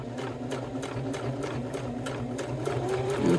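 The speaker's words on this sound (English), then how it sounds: "just sew straight down the middle" Sewing machine stitching a cork and thread wallet, a steady continuous motor whir with rapid needle clatter running throughout at close range, growing slightly louder near the end.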